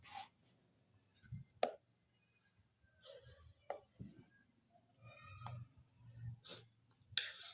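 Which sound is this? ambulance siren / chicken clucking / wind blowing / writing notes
writing notes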